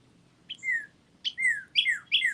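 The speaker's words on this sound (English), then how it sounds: "the birds are out" Birds chirp outdoors in a neighborhood in four short, bright bursts of rising and falling tweets, fairly close and clear over a faint low background hum.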